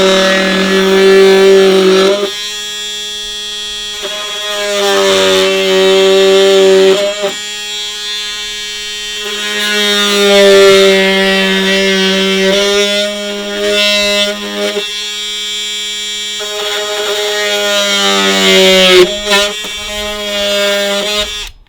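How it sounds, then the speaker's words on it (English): An oscillating multi-tool cuts across the top of a wooden fence during gate installation, giving a loud, steady buzzing drone in several long passes broken by short pauses. "We'll go straight across the top with this multi-tool, then we'll just trim our sides in"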